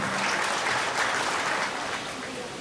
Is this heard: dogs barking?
no